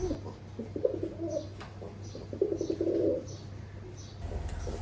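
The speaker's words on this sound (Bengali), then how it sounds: "নতুন খাঁচায় দেওয়ার সাথে সাথে কবুতরগুলো ডাকাডাকি শুরু করে দিছে।" Pigeons newly placed in a cage coo repeatedly in soft, rolling bursts at close range, with a steady low hum underneath and no talking.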